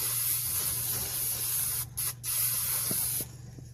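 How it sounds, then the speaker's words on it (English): A spray can lays a light dusting coat onto embossed repoussé metal in a hot workshop, a steady close hiss running unbroken with two short pauses near the end. "now if you spray this too soon, or if you don't have a good enough dusting coat"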